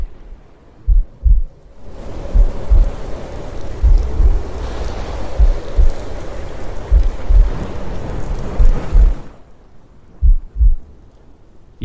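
Steady rain with storm wash fills the middle stretch, framed by deep, heavy thumps of thunder or impacts that recur before, during and after the downpour, with no talking.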